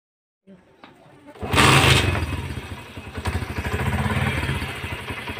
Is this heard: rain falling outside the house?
no